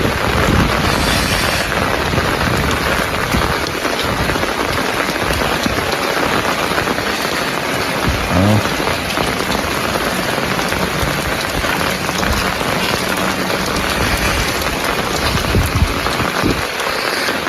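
Heavy rain pours steadily onto surfaces, a dense continuous roar with some wind buffeting the microphone.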